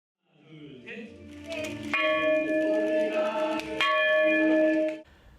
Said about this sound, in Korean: 울산 병영교회 역사의 숨결을 담은 종소리가 울산 하늘에 웅장하게 울려 퍼집니다.